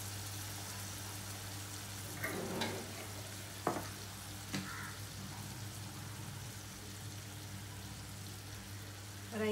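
Turmeric sizzles quietly in a pan for lemon rice. The low, steady frying hiss is broken by a few soft scrapes and clinks of stirring.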